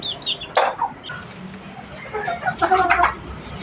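Pet chickens being fed vegetables and leafy greens give off short, close clucks and a few higher calls in scattered bursts against a quiet background.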